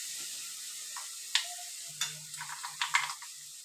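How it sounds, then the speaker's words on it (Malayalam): Ginger, garlic, green chili and shallot paste sizzles as it hits the hot pan for a roasted-coconut Kerala chicken curry, a soft steady hiss with a few clinks and stirring scrapes, close by and with no talk. "ഇനി ഇഞ്ചി വെളുത്തുള്ളി പേസ്റ്റ് ഇട്ട് കൊടുക്കാം."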